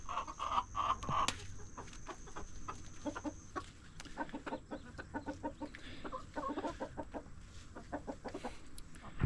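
Backyard chickens clucking in a steady run of short, close, busy calls over low farmyard noise, with an occasional louder squawk.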